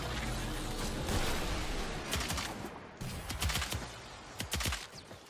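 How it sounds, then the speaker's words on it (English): Repeated thumping hits land on a Bursa in the video game Warframe, a rapid series of heavy impacts over dense, noisy gunfire, loud and busy throughout. "that thump thump thump noise you can hear is the Bursa getting hit"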